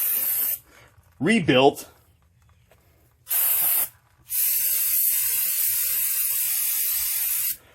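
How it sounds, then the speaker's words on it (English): Brake cleaner hisses from an aerosol can onto the front brake parts of a 2006-2016 Impala 9C1 in two bursts, a short one and then a long steady spray of about three seconds, with a brief spoken word beforehand. "Where's my brake cleaner?"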